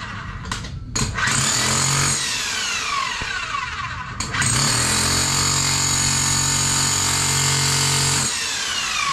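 A Hilti TE76 jackhammer runs after repair, starting in short bursts and then hammering continuously with a loud, steady mechanical drone and rattle.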